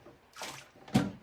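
Rinse water is poured out of a coffee brewer in two short splashing bursts, the second louder and sharper, with no talk.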